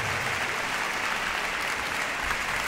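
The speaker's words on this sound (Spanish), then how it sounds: "Está ahí mi abuela aplaudiéndome hoy" An audience applauds steadily at a charity Christmas concert, a dense, even wash of clapping from many hands that holds throughout.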